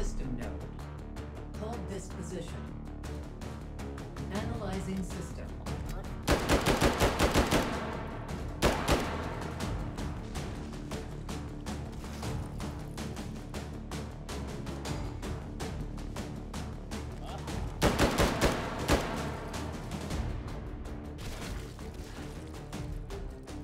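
Bursts of rifle fire from a G11 in the VR shooter Hot Dogs, Horseshoes & Hand Grenades, with two loud clusters of rapid shots standing out against a steady bed of game ambience and music.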